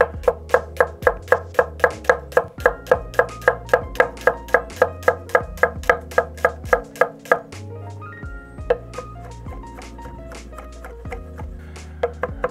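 Rhythmic chopping of vegetables with a nakiri knife in a push-pull cut, crisp evenly spaced blade taps on a cutting board, fast and steady at first, then slowing to sparser cuts.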